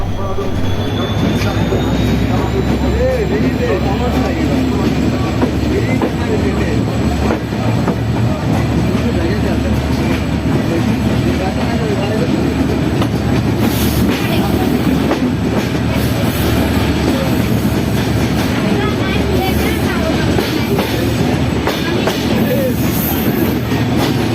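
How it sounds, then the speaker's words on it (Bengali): The Benapole Express picks up speed after departing, a steady loud rumble of wheels and carriages on the rails with rhythmic clatter and faint squeals, and a voice talking faintly underneath. "ট্রেনটি কিন্তু এখন কেবল মতো ছাড়লো আর এইখান থেকে একটা একটা সাউন্ড আসতেছে যে পিক আপ দিতে দিতে উঠতেছে"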